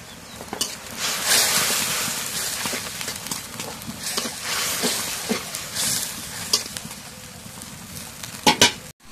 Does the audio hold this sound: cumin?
yes